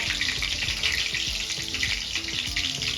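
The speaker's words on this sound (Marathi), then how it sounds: "आता इथे आपली हिरवी मिरची छान फ्राय झाली" Green chillies fry in a pan for sabudana khichdi, making a continuous bright sizzle with soft bubbling crackle, close and steady throughout, with no voices.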